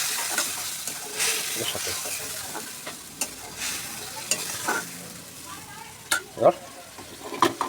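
Spice paste fries and sizzles in a pan for fish-head cabbage curry, with steady stirring and several sharp scrapes and clanks from the spoon; a voice briefly speaks over it.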